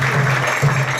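An audience at a Narasimha Caturdasi temple celebration claps steadily, a dense wash of hands filling the moment with no pauses.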